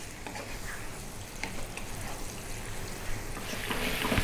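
Lamb sizzling in a pan over medium heat while being stirred, a steady soft crackle with faint scraping strokes, growing slightly louder toward the end.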